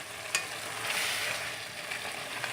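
Cauliflower stalks fry with meat in a hot pan for gobhi gosht, a steady close sizzle with faint crackles and no talking.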